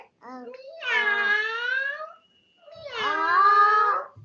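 A young child imitates a cat with two drawn-out, wavering meows separated by a short pause, close and clear.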